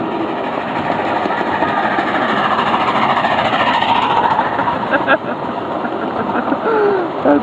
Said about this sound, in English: here comes the steam engine